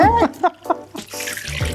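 Water poured into a cooking pot on high heat, a steady splashing gush that builds through the second half, close and loud, with brief voices and a bit of speech-like sound at the start.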